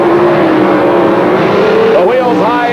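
Bill Jenkins' Grumpy's Toy Camaro, driven by Larry Lombardo, races Mark Ewell at the 1979 NHRA US Nationals in Indianapolis. A loud, sustained engine roar carries under a commentator's voice and climbs in pitch near the end.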